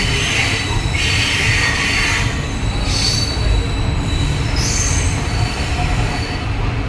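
A WDP4D diesel locomotive hauls a passenger train into platform 3 between Shornur and Thrissur, with steady loud rumble of rolling railcars and repeated high-pitched wheel squeals rising and fading across the stretch.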